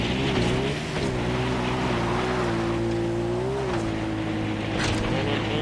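A vehicle engine in the open-world shooter Far Cry 4 drones steadily at a constant pitch, loud and continuous, with a slight rise and fall in revs while driving and no talk over it.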